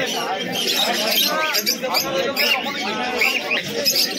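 Pigeons coo and flutter in a dense, continuous chorus at a busy pigeon market in Birnagar, with a seller talking over the birds close by.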